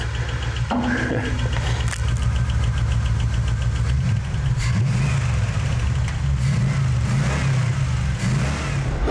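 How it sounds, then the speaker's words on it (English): A deep, rumbling 360 Magnum V8 engine in a Studebaker pickup idles steadily close by, its low throb continuous with slight uneven pulses, no voices over it. "once in a while I gotta start it up and just listen to that symphony of 8 cylinders going"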